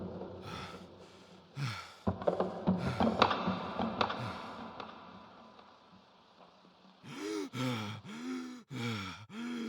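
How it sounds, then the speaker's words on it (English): Eerie breathing for a horror story: slow, heavy inhales and exhales with gasps and groans, close and unsettling, over a low dark ambient drone. "Then I heard it, breathing, not mine, from the corner of the room."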